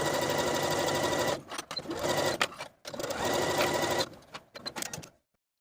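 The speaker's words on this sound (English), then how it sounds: "using a zigzag stitch, a twin needle, or your cover stitch machine, go ahead and sew that hem in place all the way around" A sewing machine stitches a zigzag hem around a jumpsuit pant leg, running in steady close bursts with brief pauses between runs before stopping at the end.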